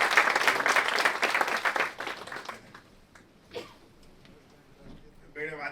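Loud applause from an audience welcoming speaker Dr. Naresh Butani at a Happiness Festival talk fills the first two seconds, then fades into quiet room noise with a few scattered sounds.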